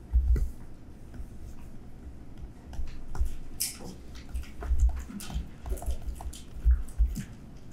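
A pen drawing a botanical diagram, irregular scratchy strokes and soft taps close by, fairly clear, with brief pauses between marks and no talking.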